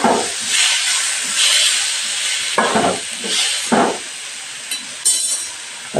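Onion and tomato fry in a pan with a continuous loud hiss and sizzle, broken by a few brief swells and clinks as the pieces are moved about.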